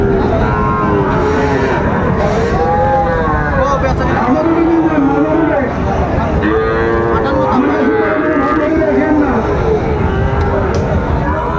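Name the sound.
cattle mooing at market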